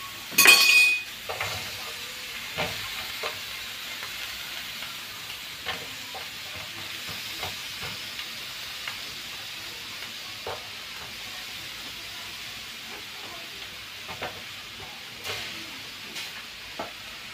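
Onions sauté in a pan with a soft, steady sizzle, broken by scattered scraping clicks as they are stirred, fairly quiet and close with no talking.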